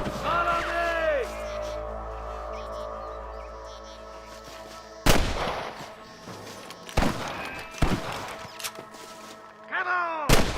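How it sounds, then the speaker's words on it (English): Several sharp gunshots ring out in a Red Dead Redemption shootout, separate blasts at irregular intervals around the middle of the scene, loud against a droning game score and ambient background. "I can hear more gunshots."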